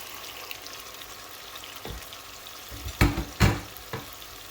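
Dried chanda fish shutki stirred with spices in a pan for chorchori, a soft steady sizzle with a few louder scraping stirs near the end.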